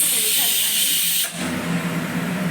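Steam hisses steadily from a small pressure cooker in a home kitchen, a bright continuous whoosh that drops and shifts to a lower, softer hiss partway through.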